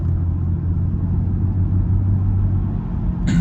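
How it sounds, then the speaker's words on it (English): A BMW E91 335i Touring with the N54 engine idles with its exhaust valves closed, a steady low rumble that stays even throughout, with a brief sharper noise at the very end. "you still hear the engine rumble in the background"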